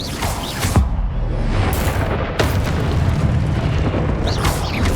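Fiery Confringo and Incendio spell blasts from Hogwarts Legacy, heard as continuous loud rumbling booms with sharp bursts and crackles layered over a dense low roar of combat.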